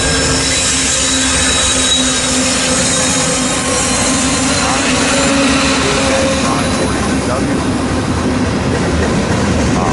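A freight train rolls past loudly and close on the Reading line, with a continuous rumble of wheels, squealing rails and clattering cars filling the whole stretch.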